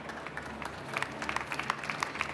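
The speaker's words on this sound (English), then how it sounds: "Let's just give a nice round of applause to our three speakers." An audience at an evening history talk applauds its three speakers, a steady wash of many hands clapping, moderately distant and continuous throughout.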